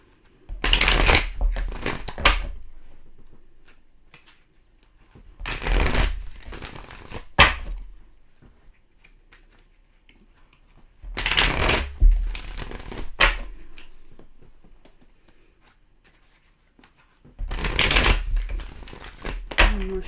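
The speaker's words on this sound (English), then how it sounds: "One more shuffle, please." Tarot cards shuffled by hand in four separate bursts of crisp, riffling flutter, each a couple of seconds long, with quiet pauses between them and no voices.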